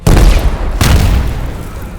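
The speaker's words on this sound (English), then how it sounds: "Hank keeps War busy, avoiding his explosions." Explosions in an X-Men audio drama battle scene: two loud, booming blasts, one at the start and a second under a second later, each followed by a long rumbling decay.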